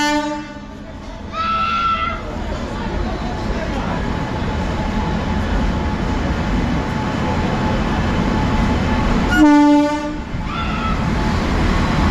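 Passenger train, the Dhauli Express, at Santragachi station in India: a steady rumble of rolling rail cars runs throughout, with short loud horn blasts near the start and again near the end, over station background noise.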